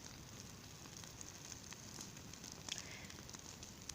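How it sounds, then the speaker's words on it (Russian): An outdoor campfire with burning grass gives a steady, faint crackle and hiss, scattered small pops standing out over a continuous low rushing background. "А тут трава продолжает гореть и гореть."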